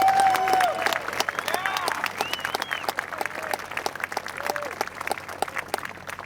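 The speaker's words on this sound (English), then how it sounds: "Give a big round of applause for Kathleen Madigan." Loud audience applause with cheering at a USO show for troops in Baghdad, 2010, greeting a comedian; dense sustained clapping fills the whole stretch, with a voice speaking over the crowd.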